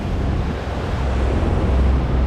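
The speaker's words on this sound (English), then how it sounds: "now we just got to get out safely in the kayak through all these choppy waves" Choppy sea waves near the Benagil caves on the Algarve coast of Portugal, heard from a kayak as a loud, continuous wash of surf and water mixed with wind buffeting the microphone.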